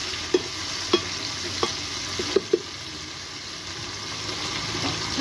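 Grated fresh tomato added to garlic and shallots frying in a pan, a steady hiss of sizzling broken by a few sharp stirring clicks, no talk.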